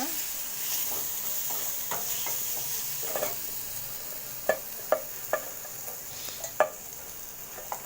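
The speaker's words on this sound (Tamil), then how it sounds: "இப்போ வந்து மிளகுத்தூள் வந்து சேர்த்துக்கிறேன் பூண்டையும் சேர்த்து நல்லா வதக்கிக்கோங்க" Ground pepper and garlic are sautéed in a pan for a pepper fish fry, with a soft continuous sizzle beneath a series of distinct spoon scrapes and taps that come more often toward the end.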